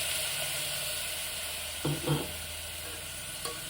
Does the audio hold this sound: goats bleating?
no